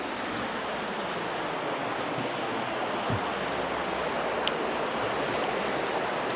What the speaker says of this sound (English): Takes us right down to the river. It's got a lot of water flowing.